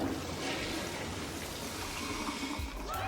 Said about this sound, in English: the sound effect is a toilet flushing